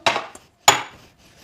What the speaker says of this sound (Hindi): बर्तन भी मैं ही उठाऊं।